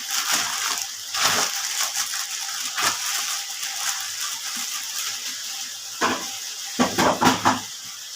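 A metal kadai and its lid are handled, with scraping, clinks and rattling knocks, including a cluster of sharp metallic taps near the end, over a steady background hiss; nobody speaks.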